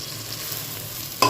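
Taro greens and prawns being stir-fried in a pan as the water cooks off, a steady soft sizzle with faint stirring scrapes and a sharper clatter of the spatula at the very end.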